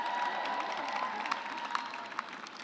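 Graduation ceremony audience at CSUN applauding and cheering for the National Anthem signers, a dense steady wash of clapping with scattered louder claps and whoops throughout.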